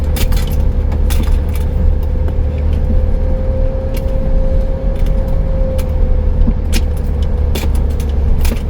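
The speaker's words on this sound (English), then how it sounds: "just a casual drive through here." A car drives slowly through Tuttle Creek BLM campground off Highway 395 near Lone Pine, giving a steady, close low engine and road rumble with a sustained hum and occasional light rattles and clicks throughout.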